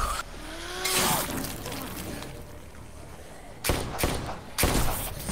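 Several sharp gunshots ring out in The Walking Dead Telltale game, one near the start and a cluster of three bursts toward the end, loud and close over a game-ambience background.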